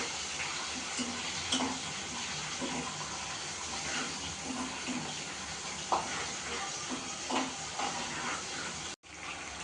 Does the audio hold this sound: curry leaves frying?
yes